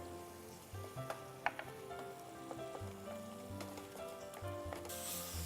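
Garlic and ginger paste sizzles and fries in hot mustard oil while cooking Kosha Mangsho, a continuous quiet crackle with occasional stirring scrapes and soft clicks of a utensil against the pan.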